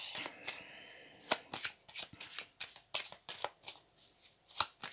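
Tarot cards are gathered and handled on a table, producing close, quiet riffling and a run of soft, sharp card slaps and flicks in an irregular rhythm.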